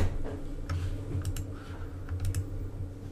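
Keys tapped on a computer keyboard while digits are entered into a Spanish numbers learning app, a few short clusters of light clicks over a steady low hum, fairly close and quiet.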